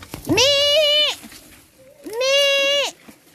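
Two loud, drawn-out bleats from a large male goat on a mountain farm, close by, each about a second long with a wavering, nasal tone, separated by a short pause.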